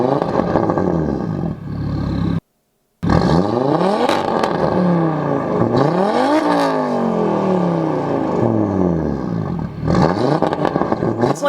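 Audi RS3 five-cylinder with a straight-piped custom Bull X exhaust revs hard, loud and close, climbing and falling through repeated blips with crackles between, one brief cut of silence early on.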